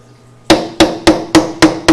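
Six sharp metallic taps in steady rhythm, close and loud, as an old rusty fuel line fitting is knocked out on a 1966 Ford F100 farm truck; no talking.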